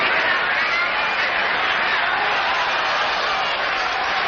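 A boxing match crowd roars in a dense, steady wash of cheering and applause, loud and continuous throughout, with voices blended into the noise.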